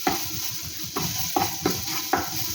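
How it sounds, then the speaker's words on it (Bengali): Julienned ginger and a green chilli stirred in a frying pan, for a potato curry in white gravy: a soft sizzle under a rhythm of about five spatula scrapes, close by, with no speech. "এরপর আমি দিয়ে দেব জুলিয়ান কাট করা আদা আর একটা কাঁচা লঙ্কা। ভালো করে নেড়ে নেব।"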